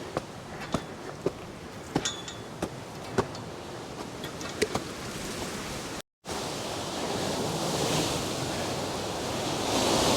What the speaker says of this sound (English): Let's go and expose ourselves to the wind.